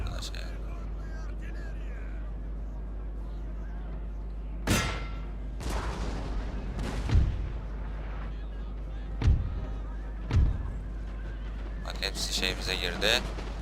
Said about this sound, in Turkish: Yoğun top ateşi altında hepsini dağıtacağız.